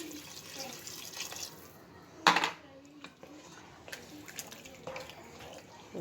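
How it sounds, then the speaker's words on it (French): Water is poured from bowls into a cooking pot for a beef and potato stew, a soft, quiet rush with one sharper splash or clatter partway through and a faint voice nearby. "Je verse 2 bols d'eau."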